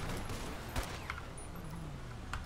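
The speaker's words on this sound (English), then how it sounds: "Shots fired at officer." Gunfire aimed at a police officer in GTA 5 roleplay, heard as a few sharp distant cracks scattered through steady background noise, with faint low voice fragments underneath.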